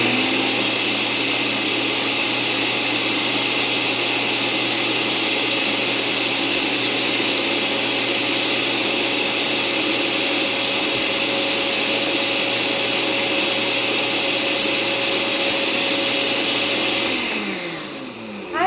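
A blender whirs loudly and steadily, mixing juice powder with half a cup of water, a constant motor roar lasting about seventeen seconds before winding down at the end.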